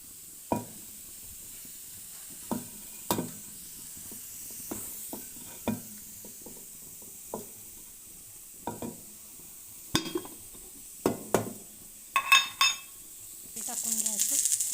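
Onion sautéing in a pan for tempering: a series of sharp scraping stirs recurs irregularly over a faint, steady sizzle, with no talk.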